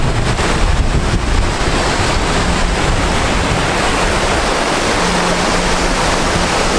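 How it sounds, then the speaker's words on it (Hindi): A waterfall in the jungle near Dharamshala pours out a steady, full roar of rushing water, joined by gusts of wind that buffet the microphone. It stays unbroken throughout, with no voices. "finally we reached at waterfall"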